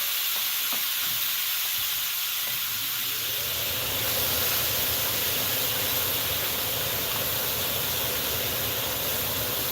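Shrimp hit a hot pan for keto shrimp tacos, setting off a loud, continuous frying hiss that rises slightly and holds steady throughout, with a few light clinks early on.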